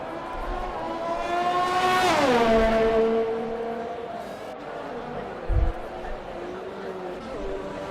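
Race car engines in the F1 2020 video game at the Belgian GP, one loud car roaring past with a sweeping pitch drop before the engine note steadies, with commentators talking over it.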